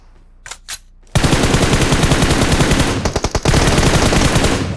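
Sustained automatic gunfire from a shooter video game blasts loud and close, preceded by a couple of brief shots, with a short stutter of separate bursts midway before the continuous firing resumes.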